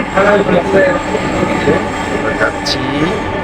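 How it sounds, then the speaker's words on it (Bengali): A metro train rumbles along steadily with a droning hum and metallic tones, murmuring voices faint beneath the running noise. "আমাদের ট্রেনটি কিন্তু ইতিমধ্যে চলতে শুরু করে দিয়েছে"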